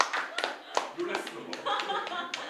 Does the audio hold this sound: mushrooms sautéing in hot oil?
no